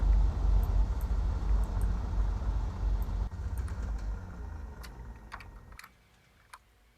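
Aircraft engines in Flight Simulator X wind down after parking at an alpine valley airfield. A steady low drone fades and then drops to near silence, with scattered keyboard clicks over the top.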